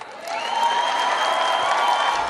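Political rally audience applauding: a dense, steady wash of clapping rises within the first half-second and holds to the end, with a sustained whistle-like tone running through it.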